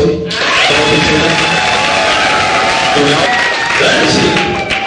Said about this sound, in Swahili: Unaweza kumpigia makofi?